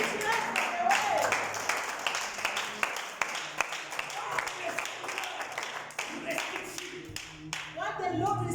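A church congregation claps and applauds at a Sunday service, a dense sustained wash of hand claps with cheering voices mixed in, loud and continuous throughout.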